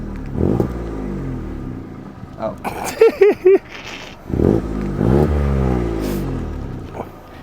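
A loud Toyota Aygo engine revs in several bursts, its pitch climbing and falling nearby, with a brief voice and rattling noises between the revs.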